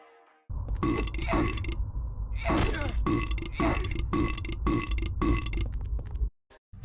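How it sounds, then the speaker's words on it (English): Repeated loud, guttural burps from the Patient monster in Silent Hill 4 as it takes damage, about six thick belching bursts in quick succession with short gaps, close and heavy. "if they take damage they will sound like a burp"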